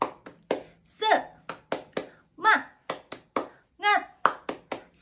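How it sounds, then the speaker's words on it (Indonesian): A school class performs a rhythmic spirit clap, crisp group hand claps in a patterned beat interleaved with short chanted children's voices, close and lively over five seconds. "Coba sekali lagi. Tepuk semangat."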